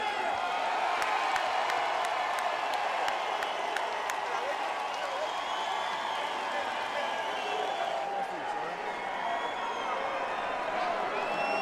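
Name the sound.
half-hearted cheer from the boxing crowd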